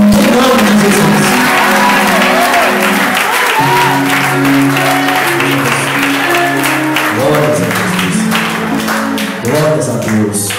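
Church congregation applauding during an evangelical service, a loud, dense sustained wash of clapping and crowd noise with music or voices underneath, steady throughout.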